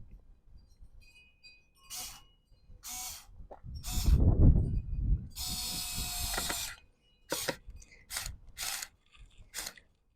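A Werktough S025 4V cordless screwdriver with its clutch slipping at a low torque setting gives a run of sharp ratcheting clicks in separate bursts, close and fairly loud, with a brief low motor whir between them.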